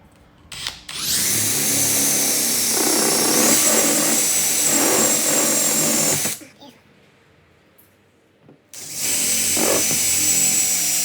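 Power drill boring holes through the painted top of an ARB Ascent vehicle canopy for a roof bar brace kit, two loud sustained whining bursts up close separated by a short quiet pause.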